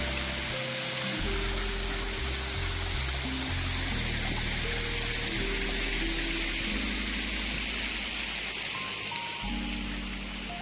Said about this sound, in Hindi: ये कितना प्यारा झरना है दोस्तों